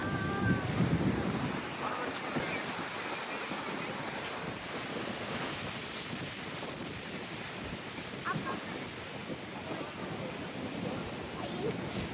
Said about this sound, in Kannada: ಫುಲ್ ಜಾಸ್ತಿ ಅಲೆ ಫ್ರೆಂಡ್ಸ್, ಅದಕ್ಕೆ ಗಾಳಿ ಜಾಸ್ತಿ ಬೀಸ್ತಾ ಇದೆ